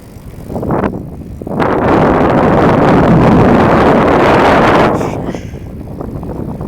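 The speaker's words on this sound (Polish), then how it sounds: "Teraz na pewno wieje wiatr." Strong wind roars against the microphone in a loud, sustained gust lasting several seconds, then eases back to a lighter rushing.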